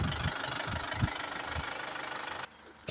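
A Vauxhall Antara 2.2 CDTi diesel engine with a restricted particulate filter runs with a rough, rhythmic knocking clatter, close and steady, then drops away abruptly to near quiet.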